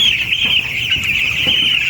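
A steady chorus of 11-day-old broiler chicks cheeping and clucking together, close by and continuous, with occasional soft bumps and handling noises underneath as eye-drop vaccine is given.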